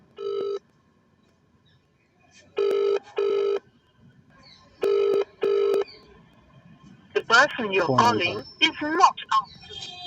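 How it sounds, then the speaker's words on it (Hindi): Touch-tone keypad beeps as a telephone number is dialed to reach a local legislator, the tones coming in short bursts of two, followed by speech. "उनका फोन मिलाया जा रहा है"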